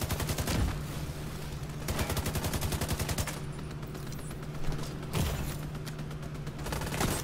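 A turret fires rapid, continuous bursts of automatic gunfire in a video game, with a dense machine-gun rattle that pauses briefly and then resumes, steady and fairly loud throughout.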